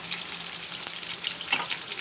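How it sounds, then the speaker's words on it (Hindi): Chapli kababs fry in a pan with a dense, even crackling sizzle that stays close and steady throughout. "मुझे जितनी ज़रूरत होगी मैं उतने कबाब फ्राई कर लूँगी"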